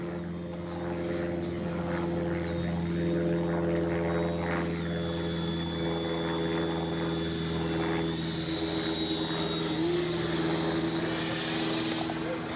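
A Freewing F-4 Phantom II RC jet makes a steady, loud pass on a warm day, its whine shifting in pitch as it flies by. A continuous drone holds throughout with no break.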